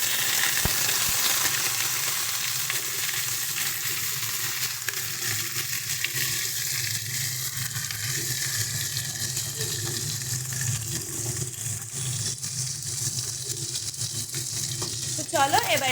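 Raw pumpkin pieces frying in oil with a pinch of asafoetida in a pan, a continuous loud sizzle with scraping stirs and a sharp clatter near the start and end.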